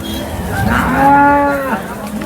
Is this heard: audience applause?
no